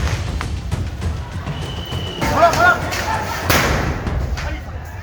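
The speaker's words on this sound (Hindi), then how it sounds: "टीवी स्क्रीन पर देखिए कैसे पुलिस वाले भीड़ को भगाने के लिए आंसू गैस के गोले छोड़" Heavy, muffled thuds from police launchers firing tear gas shells at a loud, chaotic crowd, with sharp bangs and background voices throughout.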